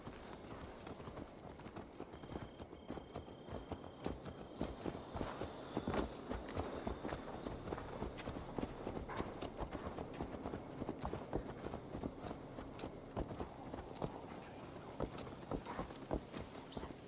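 A horse's hooves clip-clop steadily on the ground in the game Assassin's Creed Valhalla, a continuous rhythmic walk under faint wind and ambient noise, loud and close throughout.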